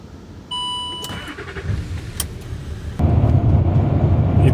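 A car starts up and drives off to go shopping on a solo road trip, beginning with a dashboard chime, then the engine catching and growing louder as it pulls away, close and steady, with no talking.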